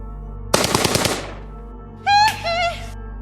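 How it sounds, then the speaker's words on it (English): A rapid burst of about eight close, loud gunshots fires in quick succession, then fades. A brief tonal electronic chirp follows. "a man, who people would come to identify as Michael Jackson, would pull up and open fire on Frey"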